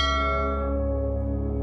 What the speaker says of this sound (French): Père, il y a un temple à proximité. J'entends les cloches de là-bas.